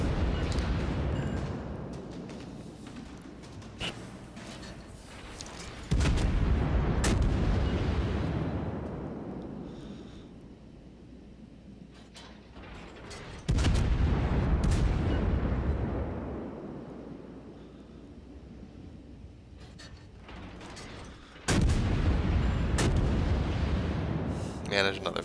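Naval ship guns in a World of Warships-style battle, Roon cruiser firing high-explosive shells: three loud booming salvos roughly eight seconds apart, each decaying into a long rumbling tail, with a player talking over them.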